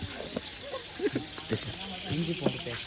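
Mustard seeds fry in oil for a chicken biryani, a steady crackling sizzle with scattered small pops, while people talk over it.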